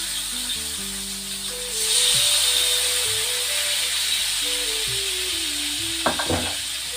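Fish sizzles in a hot pan in a home kitchen, a steady crackling hiss that swells partway through, with a few sharp clinks of utensils near the end and a low musical tone running underneath.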